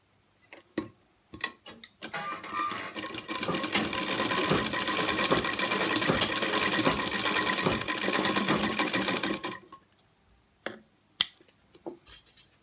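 Sewing machine stitching a small Laddu Gopal dhoti, a close steady mechanical whir running about seven seconds, framed by scattered clicks and taps of fabric handling before and after.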